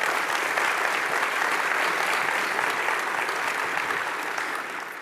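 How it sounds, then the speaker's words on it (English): A town hall audience applauds in a dense, sustained wash of clapping that holds steady and only begins to taper off near the end. "So let's give them a big round of applause."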